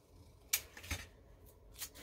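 Scissors snip through a flat paper bag coloured with crayon, giving a few separate crisp cuts spread over a couple of seconds, close and fairly quiet with no talk.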